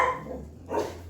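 A dog indoors barks at something outside a window, one or two sharp woofs at moderate distance in a kitchen while ground beef is being prepared.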